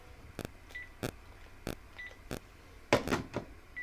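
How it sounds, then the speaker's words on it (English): A house phone rings with an incoming call, giving a series of short, sharp electronic tones spaced about half a second apart, some paired, heard close in a quiet room with no talking. "we got an incoming call on the house phone"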